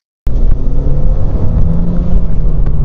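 A 25-year-old sports car with a 1.8 litre engine and a large Garrett turbocharger accelerates hard, a loud, close, continuous engine roar starting abruptly and holding steady, with no talk.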